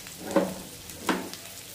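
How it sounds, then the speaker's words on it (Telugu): Garlic and onions fry in a pan with a soft, steady sizzle, broken by two brief stirring scrapes of moderate loudness, with no one talking. "కొంచెం ఫ్రై చేసుకోవాలి వెల్లుల్లి ఫస్ట్."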